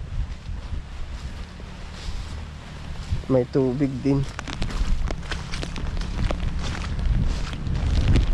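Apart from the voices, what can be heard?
wind blowing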